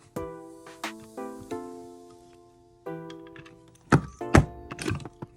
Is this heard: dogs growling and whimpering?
no